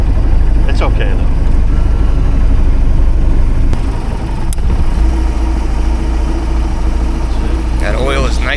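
Classic speed boat running on one engine, a loud, steady, close engine drone with brief clanks and a voice near the end.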